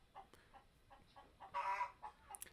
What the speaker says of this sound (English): You hear chickens in the background? That's my chickens laying eggs.